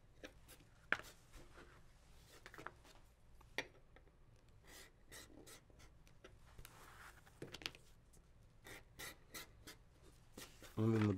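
The edge of a leather wine tote is burnished with quick, soft rubbing strokes. The faint, close friction repeats in brisk irregular passes, with a few sharper ticks and a thump near the end.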